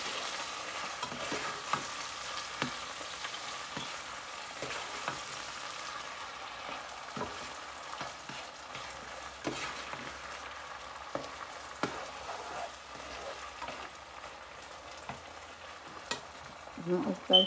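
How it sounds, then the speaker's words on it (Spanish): Garlic paste for a dip sizzles softly in a pan, a low continuous frying hiss broken by occasional faint stirring clicks. "Y le voy a echar como una cucharada de ajo."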